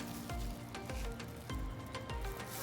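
Creamy parmesan chicken in basil white sauce bubbling in a pan, soft sizzling and popping with a few low thumps, steady and close without any voices.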